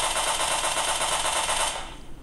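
Rapid automatic gunfire from a shooter video game played on a Positivo Q20 device, a loud, dense burst of sustained shots that cuts off near the end.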